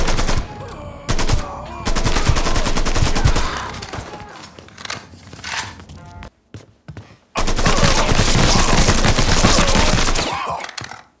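Dense automatic gunfire from the video game Mafia 3, loud rapid bursts with brief gaps and one sudden silence, then a long sustained volley.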